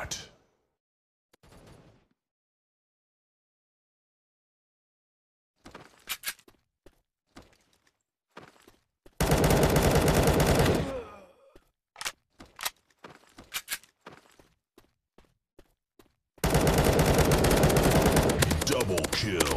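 Gunfire in the mobile shooter MaskGun: a few single shots and short clusters, then two sustained automatic bursts of several seconds each, sharp and close, separated by near silence.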